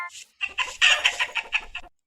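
Cartoon-style chicken clucking from the Meena cartoon mobile game: a quick run of bright, rhythmic clucks and squawks, loud and close, lasting about two seconds without speech.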